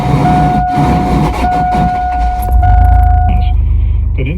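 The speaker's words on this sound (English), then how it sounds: "I assume the solenoid isn't engaging all the way onto the flywheel and it's grinding" A 2000 Chevrolet Blazer ZR2 cranks with a starter motor grinding as its solenoid fails to engage fully onto the flywheel: a loud, continuous metallic grind with a steady whining tone, and a heavier rumble building in the last second.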